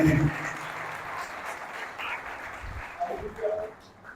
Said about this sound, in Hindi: हालेलुया, तालियां बजा रहे हैं, बड़ी खुशी की बात है।